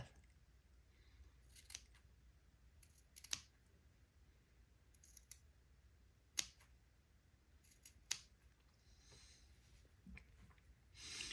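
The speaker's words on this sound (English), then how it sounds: "I'm going to go back and cut a notch on the batiste also." Scissors snip a notch in fine batiste fabric while hand-sewing a day gown, a handful of sharp, quiet separate cuts spaced a few seconds apart against a near-silent background.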